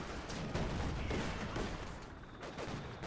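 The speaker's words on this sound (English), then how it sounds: "So a nice barrage there." Rapid artillery barrage in a competitive strategy video game match, a dense, sustained roll of overlapping booms and shots filling the whole stretch at steady loudness, with no voices.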